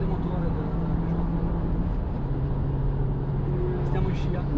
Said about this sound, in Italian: Il grande motore della Peugeot.